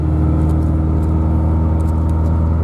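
Suzuki Escudo (Sidekick) engine fitted with an aftermarket CDI, pulling hard in second gear from about 50 on an empty road; a steady, loud, close drone with a deep low hum, no voices.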